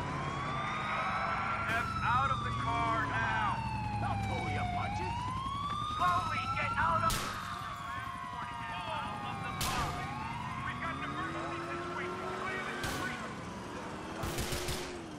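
Police car sirens wailing in Grand Theft Auto IV, several overlapping rising and falling sweeps close by, punctuated by sharp bursts like gunfire or impacts, with a voice talking intermittently underneath.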